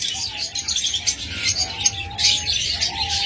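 A pair of blue masked lovebirds at a bird sale, with rapid high chirps and twitters running continuously close by, plus a little background murmur.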